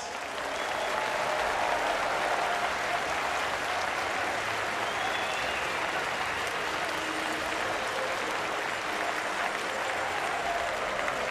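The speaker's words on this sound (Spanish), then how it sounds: "Es el momento para aplaudir a un gran campeón" A crowd claps for Olympic road cycling champion Richard Carapaz of Ecuador, with loud, dense and sustained applause that holds at an even level throughout.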